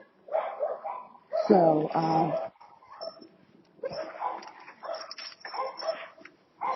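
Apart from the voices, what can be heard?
dogs barking and whimpering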